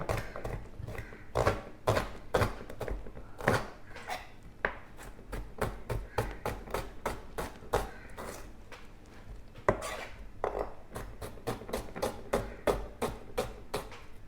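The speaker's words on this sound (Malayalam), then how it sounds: "ഇങ്ങനെ ഉള്ളി കട്ട് ചെയ്യാം കേട്ടോ" Sharp, rapid knife strokes chopping onions on a board for a simple pressure-cooker biryani, a steady run of crisp near taps with brief pauses between bursts, no talking over them.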